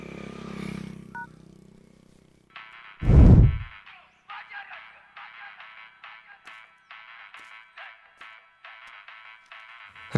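A phone ringtone plays in short repeating bursts with brief gaps, fairly quiet, after a loud thud and some faint background noise at the start.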